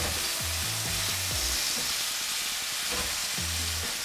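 Red Lechwe backstrap sears in oil in a very good pan, a steady loud sizzle running unbroken throughout, with low-pitched background hum over it and no voices.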